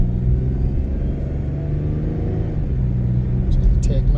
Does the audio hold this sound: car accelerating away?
yes